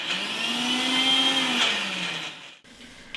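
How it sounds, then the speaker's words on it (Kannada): Kitchen mixer grinder grinding pitted dates: a loud close whirring motor drone for about two and a half seconds, then it cuts off and a brief second burst starts near the end. "ಡೇಟ್ಸ್ನ ಸೀಡ್ಸ್ ತೆಗೆದ್ಬಿಟ್ಟು ಇದನ್ನ ಕೂಡ ಗ್ರೈಂಡ್ ಮಾಡ್ಕೋಬೇಕು"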